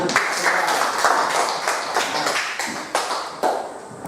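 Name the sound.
class clapping hands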